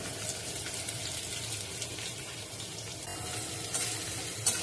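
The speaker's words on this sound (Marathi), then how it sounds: "कांदा चांगला परतवून घेऊया आपण।" Sliced onion sizzles steadily in hot coconut oil for a Kerala-style chicken curry, with a constant close frying hiss and a few sharp stirring knocks near the end.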